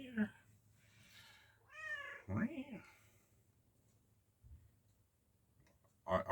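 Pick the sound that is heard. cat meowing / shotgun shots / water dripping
cat meowing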